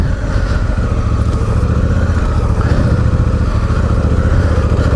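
Honda Africa Twin motorcycle riding on a dirt trail: a loud, close, steady engine drone with a rumbling low end and slight throttle variation, alone with no talking.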